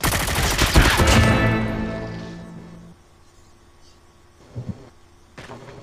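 A sniper rifle in a first-person shooter video game cracks loudly at the start, its report ringing out and decaying over a couple of seconds, followed by quieter game noises and a couple of softer thumps.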